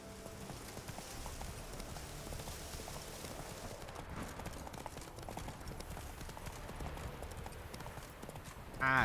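Horse hooves clip-clopping at a steady walking rhythm in The Witcher 3: Wild Hunt around Novigrad, with a soft ambient backdrop under the regular close footfalls.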